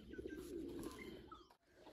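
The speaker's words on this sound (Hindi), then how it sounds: "यहाँ पे देखें दरबार शरीफ पे बहुत ज़्यादा कबूतर" Pigeons at a shrine courtyard give soft, low cooing that runs steadily through the moment, with faint chirps and a brief dip near the end, and no talking.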